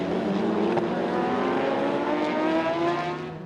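Race cars, among them a Porsche, roar past on a circuit in cold early-season weather at Ring Djursland, a loud sustained engine drone with shifting pitch that fades slightly at the end.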